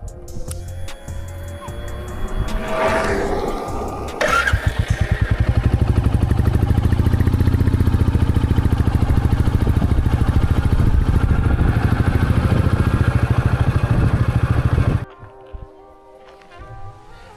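A motorbike rides up toward a parking spot near a temple at a tourist place in Balasore, the engine idling and revving at first, then running with a steady loud chug before cutting off abruptly.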